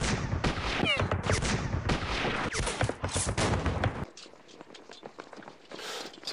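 Gunfire from a WWII strategy game set in the Philippines, a dense loud burst of rapid shots and booms for about four seconds, then quieter scattered crackling and clatter.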